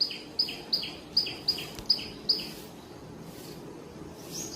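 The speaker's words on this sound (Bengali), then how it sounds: "এই যে একটা কোকিল এসে বসেছে" A male koel perched in a jasmine bush outdoors, giving a quick series of about seven sharp, repeated high calls, then falling quiet against faint ambient noise.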